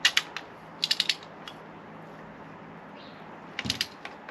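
Ratchet tightening a spark plug on a Volvo XC40 engine: short bursts of rapid clicking near the start, around one second and again near the end, with a quieter stretch between.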